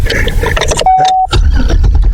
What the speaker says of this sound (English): Let me back the truck up a little bit